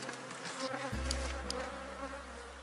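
A honey bee swarm buzzes as its hive is closed, a dense, continuous drone close by with a low steady hum and no talk.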